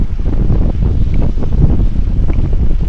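Wind buffets the microphone during a bike ride in Kingston, making a loud, continuous low rumble with gusty surges throughout.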